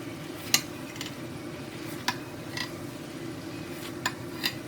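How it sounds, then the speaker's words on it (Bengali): A spoon scrapes and clinks against a pan while chicken is stirred with spices, sharp taps repeating every half second or so over a low steady background, close and without talk. "খুব ভালোভাবে চিকেনের সঙ্গে সব মশলা মিশিয়ে মিডিয়াম আঁচে ঢেকে রান্না করব।"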